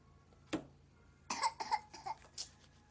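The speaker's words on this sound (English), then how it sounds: "please stop coughing for no reason" A young child coughs repeatedly at home: one sharp cough, then a burst of several close, quick coughs, fairly near and moderately loud.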